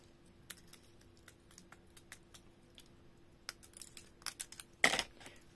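Scissors cut through rolled ribbons for a scrapbooking tag card, heard as quiet close snips and rustles that grow busier, ending in one louder crunchy cut over a faint steady hum.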